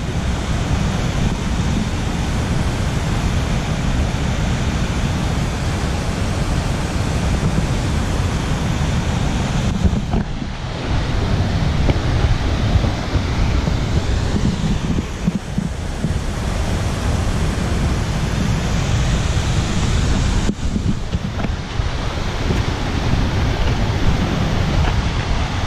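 Lundbreck Falls in Alberta, Canada, sends up a steady, loud roar of rushing water close by, a continuous broadband wash that barely changes over the whole stretch, with a couple of brief dips, and no voices.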